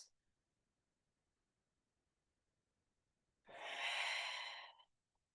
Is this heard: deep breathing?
yes